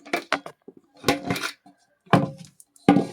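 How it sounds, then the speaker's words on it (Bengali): Metal pot lid lifted off a pot of pangas fish biryani, a few clanking and scraping metallic clinks in short bursts, close and clear, with no talking. "ঢাকনা খুলে দেখব"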